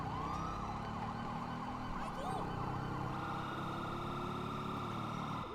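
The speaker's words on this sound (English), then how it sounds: "traffic sucks at listening to police sirens" A wailing highway patrol siren in GTA 5 sweeps up and down over a steady engine hum, sustained and fairly close, with no break in the sound.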